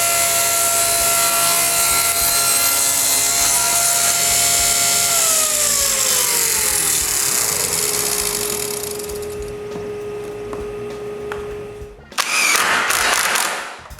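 Small wood blocks are cut at a slight angle for clamp stops while building a garage workshop door. A loud power-saw whine holds, then winds down, followed by a short, harsh burst of cutting.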